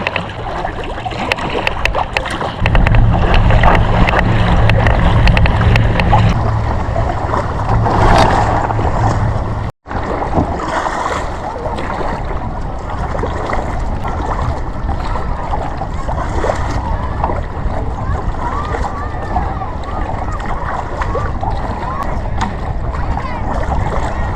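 A kayak paddled out onto open water near Oshkosh, Wisconsin: continuous rushing wash and splashing with heavy wind buffeting, loud and close throughout with a brief dropout midway.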